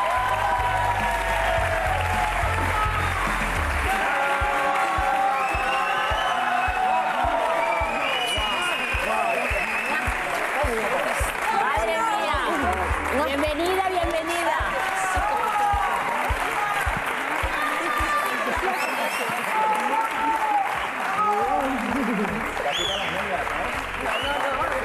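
Studio audience applauding to welcome a singer onto the stage at an Operación Triunfo reunion show, sustained clapping and cheering over loud music, with people talking through it.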